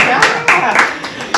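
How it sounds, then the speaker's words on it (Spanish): Brief scattered clapping from a small audience welcoming a guest, a few sharp claps in quick succession with a voice present alongside. "un aplauso para Javier"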